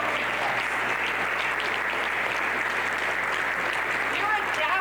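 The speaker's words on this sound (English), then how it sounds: "So give yourselves a round of applause for all of the good that you're doing in your Rotary clubs" Steady, dense applause from a Rotary club audience fills the whole stretch at an even level, with no voices breaking through.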